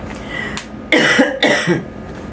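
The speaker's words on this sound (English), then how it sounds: "I'm sorry, I've had this cough, I can't get rid of it" One person coughs twice in quick succession, close and loud, after a faint throat-clearing sound.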